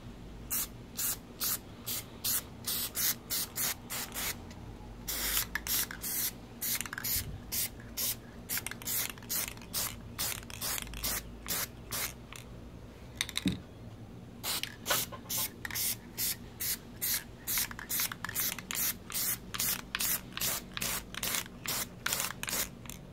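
A second coat of Plasti Dip is sprayed onto a Smith & Wesson M&P 9c pistol back strap in quick, rhythmic hissing bursts, close and fairly quiet, with a brief pause partway through.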